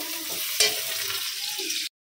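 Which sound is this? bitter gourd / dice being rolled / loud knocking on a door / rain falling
bitter gourd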